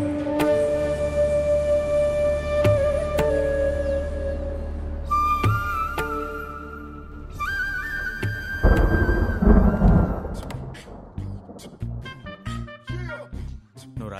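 Deep thunder rumbles and rolls across the sky as a storm builds before rain, layered under sustained musical tones, with a louder crackling burst near the middle.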